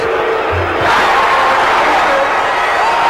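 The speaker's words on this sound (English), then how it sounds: "Boy, they're up and cheering in Phoenix" A home crowd in the Phoenix arena cheers loudly during a 1979 NBA game between the Philadelphia 76ers and the Phoenix Suns, a dense continuous roar that swells after the first second and holds steady.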